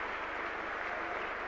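Crowd applause from spectators at Old Trafford during a rugby league second division premiership final, a steady broad wash of clapping heard from a distance with no clear breaks.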